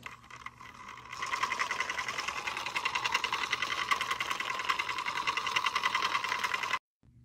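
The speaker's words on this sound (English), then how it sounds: "The motor here runs on electricity." Small electric motor of a toy Wobble Bot robot whirring steadily with a fast, buzzing rattle, close and continuous for several seconds before cutting off abruptly.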